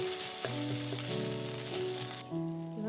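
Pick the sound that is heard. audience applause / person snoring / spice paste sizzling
spice paste sizzling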